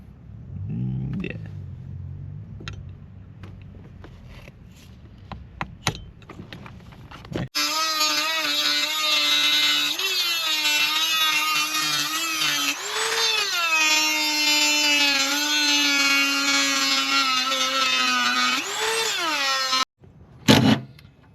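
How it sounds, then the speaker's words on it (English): Power drill boring holes into a car's transmission tunnel, a steady loud whine with shifting pitch running for about twelve seconds after some earlier knocks and handling noises, stopping abruptly near the end. "Now I'm gonna smack some holes into it, and then we're gonna start drilling."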